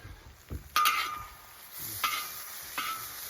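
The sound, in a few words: onions and green peppers stirred and sizzling on a discada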